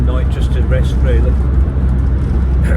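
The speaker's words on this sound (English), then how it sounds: "Sorry about the noise and the road noise" Steady low road rumble inside a motorhome driving on roads toward Stratford-upon-Avon, a constant engine and tyre drone throughout with a person talking over it.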